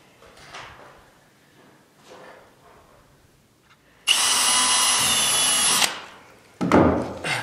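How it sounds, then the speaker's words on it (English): A power drill whines loudly for about two seconds drilling a pilot hole in wood near the edge, after quiet murmuring, then a brief second burst of drilling follows. "So drill a pilot hole just on the end ones because it's so close to the edge"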